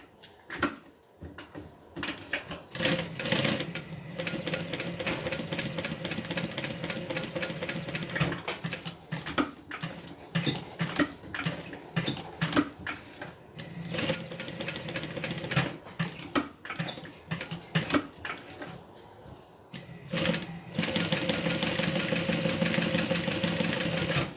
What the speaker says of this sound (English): instead of clipping my thread, I'm just going to stitch over it to lock everything in place